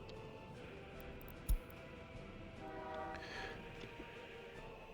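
A bitumen train in the city-building game Workers and Resources, a faint rolling rail rumble with a single sharp clank and a soft horn-like tone later, quiet and distant.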